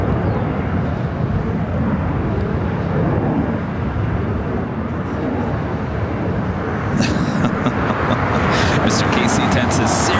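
A KC-10 military tanker aircraft at LAX roars loudly and steadily throughout, its broad heavy rumble building slightly toward the end.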